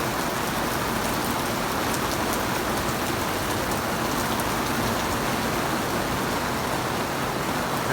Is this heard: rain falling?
yes